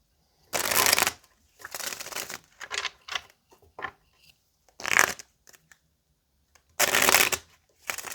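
Tarot cards being shuffled in several quick bursts of riffling and slapping, close and crisp, separated by short quiet gaps.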